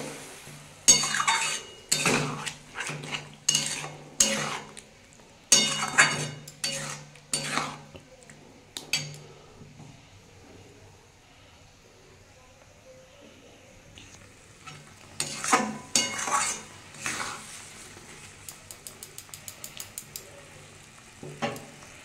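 Ground green pea paste being stirred and sautéed in a pan at home, repeated scraping strokes of a spatula against metal over a soft sizzle, pausing to a quiet hiss before a fresh run of rhythmic stirring and tapping.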